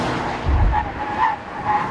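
A BMW M4 with a six-cylinder engine drifts on a race track, its tires skidding in a loud, sustained squeal over engine roar, rising and falling in waves.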